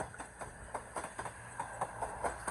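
A 4-car passenger train passes through York station on the East Coast Main Line, heard as a quiet, steady rumble with a regular clatter of wheels over rail joints.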